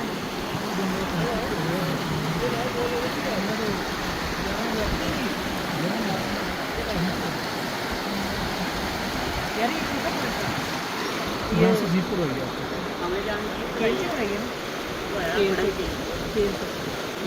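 Cold river water near Sharda flowing in a steady, broad rushing wash that continues unbroken, close and fairly loud, with faint talk mixed in.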